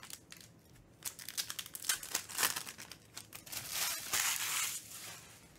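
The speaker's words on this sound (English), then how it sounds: "I love the plain foil wrappers." Plain foil wrappers on 2021 Bowman Sterling baseball card boxes being torn open at close range, a quiet run of crinkling and ripping bursts followed by a longer rustle, with no voices.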